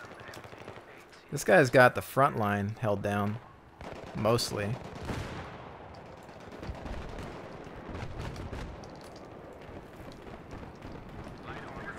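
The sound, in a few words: machine gun fire and tracer rounds in video game Battlefield 3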